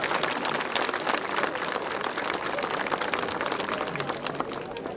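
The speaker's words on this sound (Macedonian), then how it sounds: "да ги поздравиме со еден голем аплауз" A large crowd at an Easter folklore festival in Demir Hisar applauds the host cultural-artistic society's folk ensembles, with dense, sustained clapping that stays loud and even from start to finish.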